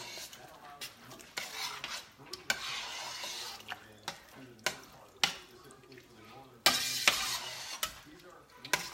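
A spoon churns through a large pot of chili with crushed tomato and puree, giving wet scraping stirs and clinks against the pot in uneven bursts, with occasional sizzle underneath.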